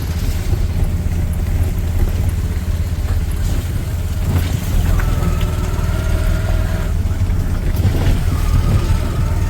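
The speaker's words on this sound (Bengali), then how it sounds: "মাছ ধরার ট্রলার" Fishing trawler engine rumbles steadily at close range on a Sundarbans river, a continuous low drone with wind buffeting the microphone and faint higher whines passing over it.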